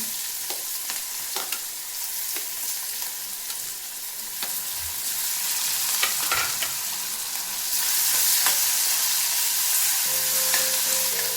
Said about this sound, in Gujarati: બટેકું આપણે તેલમાં જ પકડાવશું એકદમ સરસ રીતે ચડી જશે